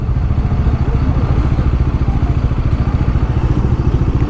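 A Honda motorcycle engine runs steadily and loudly up close with a low, pulsing rumble on a ride from Darjeeling to Ladakh, a dense throb holding through the whole stretch with no voices over it.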